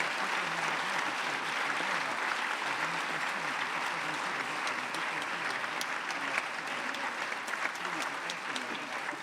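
Sustained applause from a conference audience for two speakers after a talk on generations in society, dense and even throughout with no gaps, a few sharper claps standing out.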